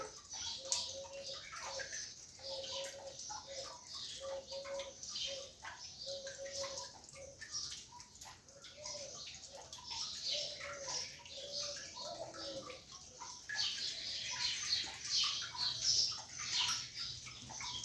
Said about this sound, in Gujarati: પક્ષીઓનો મધુર કલરવ અને પાણીનો અવાજ આપ માણી શકો છો